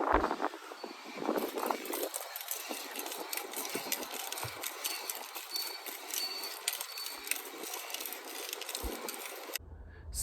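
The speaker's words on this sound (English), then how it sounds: "So, it's definitely the wheel bearing," A worn front wheel bearing on a Dodge Ram 1500 with a 5.7 litre V8 Hemi gives off a rhythmic mechanical whirring drone, moderately quiet and steady for several seconds before cutting off.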